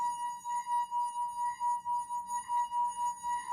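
A wet hand circles the rim of a wine glass, drawing out a steady, pure singing tone that holds evenly throughout, quiet and alone.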